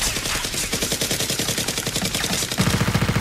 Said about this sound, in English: Dr. Lee and another robber rush in and continuously shoot at Seal X.